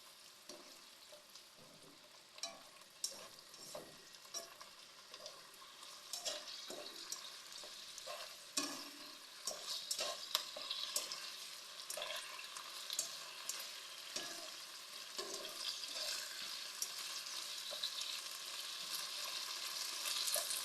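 Snow peas stir-frying in oyster sauce, a steady soft sizzle with intermittent scraping stirs and spatula clinks, building slightly louder toward the end, no talking.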